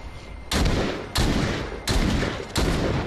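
Four sharp, loud pistol shots ring out at a steady, roughly even pace in The Walking Dead: Saints & Sinners, each crack tailing off into a brief decay before the next.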